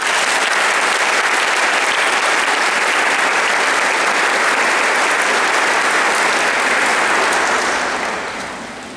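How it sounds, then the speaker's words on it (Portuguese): A large congregation at a Christmas Mass breaks into dense, loud, steady applause that fills the space evenly, then begins to fade in the final second. "Uma salva de palmas."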